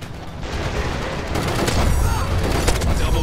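In a video game, a frag grenade bursts into a dense, rumbling roar with rapid cracks of gunfire layered over it, loud and sustained throughout.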